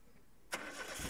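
A VAZ 2114 car engine on stock injectors cranks and catches at about the half-second mark, then runs loud and rough right up close after a brief quiet lead-in.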